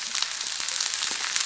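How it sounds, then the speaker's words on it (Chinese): A hot dog frying in a pan, a close, steady bright sizzle with small crackles and pops throughout, no talking. "我在煎这 hot dog 是不是"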